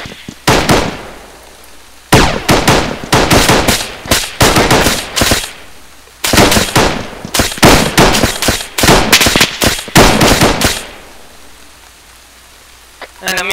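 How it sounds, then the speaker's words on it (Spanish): Gunfire in the military shooter Arma 3 comes in several rapid, loud bursts separated by short pauses, like close automatic weapons fire. "Disparos, disparos del oeste,"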